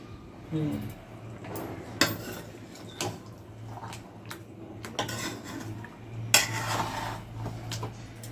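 Chicken meat is stir-fried in a pan over medium-high heat in a home kitchen. A spatula scrapes and knocks against the pan in irregular strokes, over a low steady hum.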